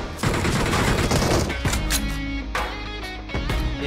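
Rapid gunfire in the mobile battle royale game BGMI played on an iPad Pro, dense loud volleys filling the first half then scattered shots and booms, with no talk over it.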